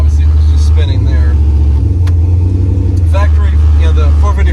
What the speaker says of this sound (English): So it's got that deep muscle car sound that everybody thinks these trucks are, plus a little extra power.